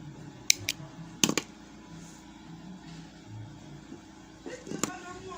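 Scissors snip through yarn while crocheting a top, giving a few sharp, close clicks spaced over several seconds against quiet room tone.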